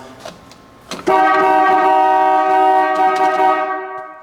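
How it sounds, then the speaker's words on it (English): The horn of a 1950 Ford Convertible gives one long, loud, steady blast lasting about three seconds, preceded by a few faint knocks and clicks before it sounds. "Horn works, heater works."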